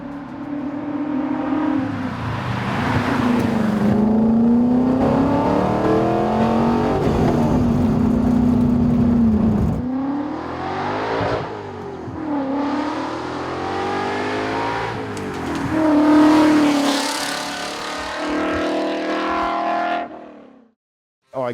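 A hand-built Ford GT40's V8 roars through long revs and runs up through the gears, loud and close, with a deep steady drone, rising sweeps and a final fade as it cuts off, with no talking.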